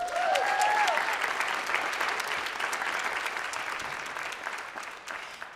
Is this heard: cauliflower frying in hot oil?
no